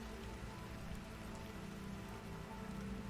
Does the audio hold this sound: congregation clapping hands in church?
no